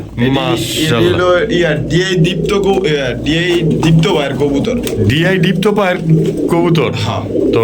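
A pair of Indian pigeons, male and female, coo close by in repeated throaty rolling calls while someone talks over them almost throughout.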